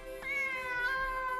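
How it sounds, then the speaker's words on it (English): In the anime Demon Slayer, a cat lets out a single clear, drawn-out meow, close and tonal, with no talking. "Oh, okay, it's a magic cat."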